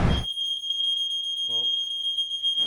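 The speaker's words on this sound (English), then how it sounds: "suddenly there was the fire alarm going off" A hotel room smoke alarm set off by a smoking microwave shrills with a continuous piercing high beep, loud and steady, while a voice briefly speaks at the start and a short vocal sound cuts in midway.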